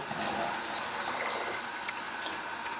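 Cold water poured into a pot while making Kashmiri pink chai, a steady close splashing pour with faint drips running throughout.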